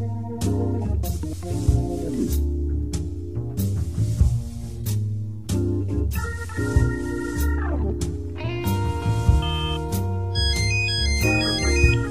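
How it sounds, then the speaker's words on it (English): A phone rings from a sofa in the adventure game Martin Mystère: Operation Dorian Gray, its repeating electronic tones coming in near the end over steady game music. "There's ringing coming from the sofa."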